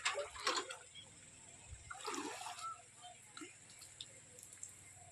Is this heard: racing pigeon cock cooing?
no